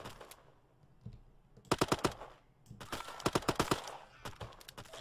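Rapid bursts of automatic weapon fire from an egg-themed first-person shooter video game crackle in two clusters with short gaps, crisp and fairly close.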